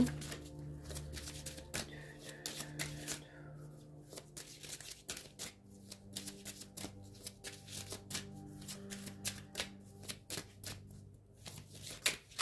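A deck of cards is shuffled by hand before a card is drawn, giving a long run of soft rapid riffles and taps, faint and close, with a low hum beneath.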